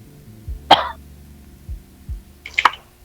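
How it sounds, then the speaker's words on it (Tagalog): Two sharp, close coughs about two seconds apart, with a quiet hum and faint low thumps between them. "Ubo ka yata, sir."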